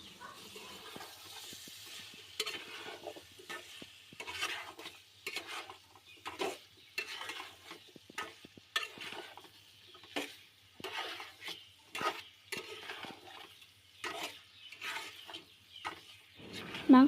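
A spoon scrapes and clinks in a pot as pigeon meat and potatoes are stirred, with irregular stirring strokes over a soft sizzle, close up and without speech.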